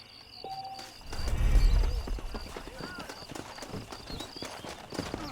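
Horse hooves clip-clop in the Red Dead Redemption video game on Xbox One, a steady rhythmic trotting heard under a man's speech, with a brief louder burst of movement early on.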